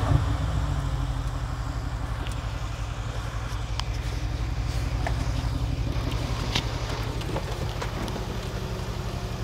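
A Datsun 260Z engine idles close by with a steady, deep rhythmic throb, the loudness holding even throughout, with faint clicks and rustles over it and no talking.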